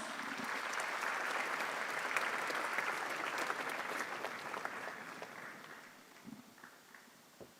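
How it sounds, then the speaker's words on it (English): An audience at a radio station event applauds, a dense, sustained round of clapping that holds steady before thinning out and fading toward the end. "Please, with a round of applause."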